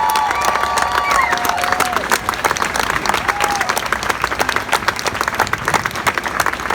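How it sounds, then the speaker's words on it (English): A crowd at a Hobart rally against anti-protest laws gives a big round of applause with cheering and whistles, a dense, steady clapping wash that fills the whole stretch. "a really big round of applause, please"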